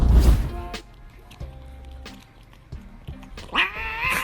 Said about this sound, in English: starting to meow loudly until he got what he wanted